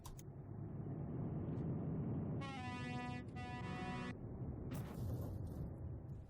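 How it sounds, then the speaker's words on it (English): A loud truck air horn in Euro Truck Simulator 2 multiplayer blares twice in quick succession over a steady engine rumble, followed by a sharp burst of noise. "I think I deserve that blast of air horn."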